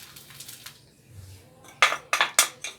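Chicken pieces, about 700 g, being mixed with salt in a bowl, with a few sharp clinks and knocks of a spoon against the bowl coming in a quick cluster after a quieter stretch of soft handling.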